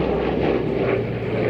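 Hawker Sea Fury fighter's 3050-horsepower piston engine running loud and close, a continuous dense propeller roar holding steady throughout with a slight wavering.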